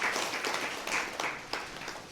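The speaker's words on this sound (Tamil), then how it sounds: "அவருக்கு நீங்கள் கைத்தட்டல் தரலாம்." Audience clapping at a Tamil lecture, a short patter of applause from a modest crowd at moderate volume, with a few sharper claps standing out.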